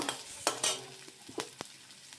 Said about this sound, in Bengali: এবার আমি লঙ্কা কুচি দিয়ে দেব